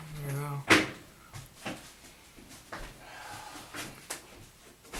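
A door is shut indoors with one sharp knock near the start, followed by softer bumps and clicks while people talk.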